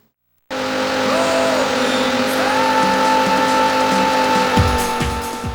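Race car engines in Sega's Daytona USA on the Saturn drone loudly and steadily after a sudden start, pitch rising as they rev, with brief tire squeals near the end.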